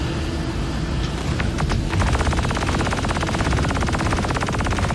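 A spaceship's fixed nose gun firing in a video game, a rapid, steady stream of shots that starts after a few sharp blips and continues loud and unbroken over a heavy engine rumble.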